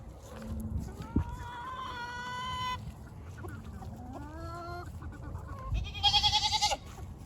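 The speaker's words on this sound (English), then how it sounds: "There's turkeys out now." Turkeys gobble and chickens cluck outdoors on a homestead, several overlapping calls with a burst of rapid high clucking near the end, fairly close.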